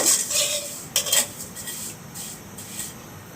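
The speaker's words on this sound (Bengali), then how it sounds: "এখন আমি সেমাইটাকে ঘামাই নেব" Dry vermicelli (semai) being roasted in a pan on a stovetop, with scraping and clinking of a utensil against the pan and a brief louder stirring burst near the start, no talking.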